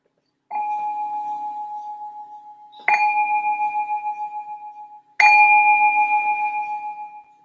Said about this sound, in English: Let me just ring the bell to signal the start of the second meditation.